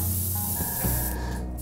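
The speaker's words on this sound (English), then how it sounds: "keep the cake moving and spinning while you spray" An airbrush sprays food color onto a cake as it spins, a steady close hiss of air that runs through the whole clip with small shifts in tone and no talking.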